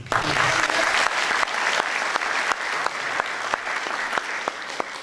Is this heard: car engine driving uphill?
no